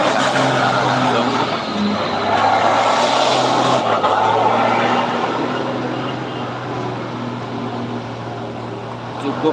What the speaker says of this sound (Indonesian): Cukup beruntung bagi yang menonton secara langsung trailer Shiba Surya melintas.